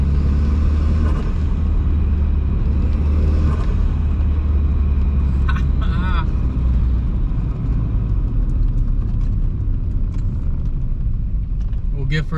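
A Volkswagen MK3 with a swapped-in 1.8T turbo engine on a drive, its steady low engine rumble filling the cabin with brief turbo whistles and whooshes rising above it, under talk throughout.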